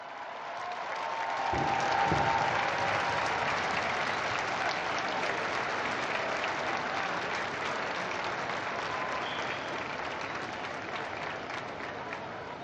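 A large crowd welcoming Pope Francis at the Angelus prayer breaks into long, steady applause and cheering that swells early and then holds as a broad, distant roar for several seconds.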